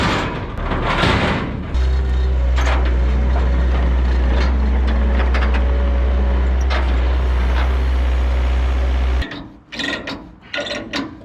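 A vehicle towing a trailer on a test drive, a loud steady engine drone with rattling, clanking hitch and trailer noises, then the drone drops away into scattered knocks and thumps.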